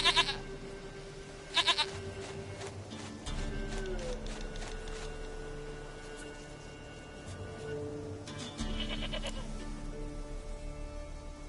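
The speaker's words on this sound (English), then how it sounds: "Goat of mine, dearest, sweetest goat." Goats bleat in The Witcher 3 game world, several wavering cries coming in separate bursts over a quiet ambient background, with tones of game music drifting underneath.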